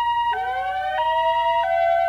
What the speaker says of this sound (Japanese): そしてパトカーのサイレンが近づき、ごく間近で止まった。